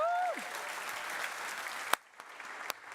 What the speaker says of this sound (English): Can I get a round of applause for all of us?